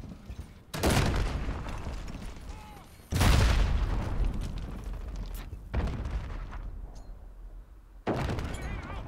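A grenade explodes in Call of Duty with a deep, close boom. Several other heavy booms and thuds punctuate a few seconds of rumbling game noise.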